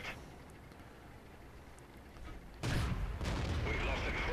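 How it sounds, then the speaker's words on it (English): Artillery shells landing in the tank battle game World of Tanks, a sudden loud boom followed by a long rumbling, crackling wash of noise that stays strong to the end, after a quieter stretch of low background. "here comes the artillery"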